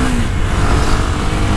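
A new motorcycle with a straight-pipe exhaust roars close and loud in a steady, raw engine rev that fills the short moment without talk.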